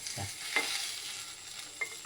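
Quiet stirring and faint sizzling of garlic, green chilies and gongura leaves over low heat without oil, with a few soft scrapes and light clicks of a utensil; no talking.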